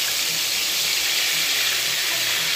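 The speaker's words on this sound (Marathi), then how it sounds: "आता आपल्याला सर्वात पहिले अद्रक, लसूण आणि कोथिंबीर याची पेस्ट घालायची." Ginger, garlic and coriander paste sizzling in hot oil for a tempering, a steady loud hiss that runs evenly throughout with no talking.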